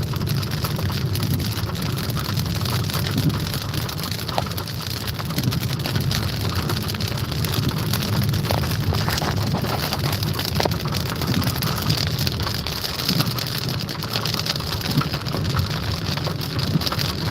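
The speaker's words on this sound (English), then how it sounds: "Heavy rain." Heavy rain pours steadily during a storm while a car drives along a road, a dense, continuous wash of drumming and hiss that stays loud and even throughout, with no voices.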